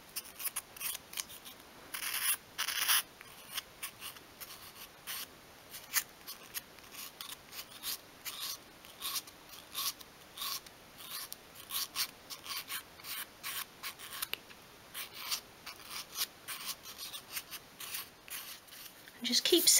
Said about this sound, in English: Just keep sanding until you've got a nice edge along that bottom